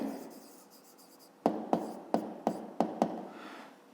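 A pen writes down a solution to a fifth-grade maths exercise, faint scratching followed by six sharp, evenly spaced taps of strokes on paper, close and alone.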